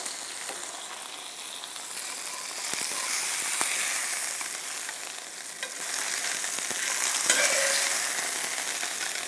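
Fish frying on a gas stove, a loud and steady sizzle with crackling spatter that swells and eases, heard up close with no talk.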